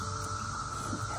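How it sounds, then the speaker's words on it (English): A cicada buzzes as a steady, continuous high drone throughout the short moment, moderately loud against a low background rumble, with no voices. "There's a cicada."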